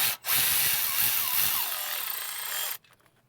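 Power tool loosening the dipstick tube bolts on a Duramax diesel engine in a 2012 GMC 3500, a close continuous whirring buzz lasting over two seconds with a short break near the start, then stopping abruptly.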